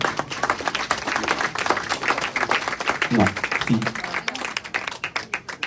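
Applause from an audience at an association awards ceremony as a banner is presented, steady clapping filling the clip with a few brief words spoken over it.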